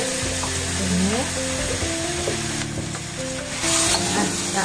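Cooked rice is stirred into fragrant spice paste in a hot pan for an easy biryani, giving a steady close sizzle with scraping and stirring sounds, rising louder toward the end.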